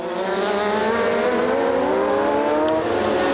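Triumph Daytona 675 motorcycles racing at the 2009 Greymouth street race, a loud, steady high-revving engine whine that climbs gradually in pitch as the bikes accelerate, with no break in the sound.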